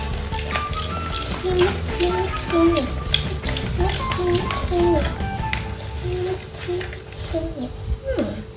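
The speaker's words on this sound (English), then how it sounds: "Then we mix it." Strawberry pancake batter stirred in a bowl at home, a steady scraping, swishing rhythm up close, with a child's and an adult's voices talking over it and background hum.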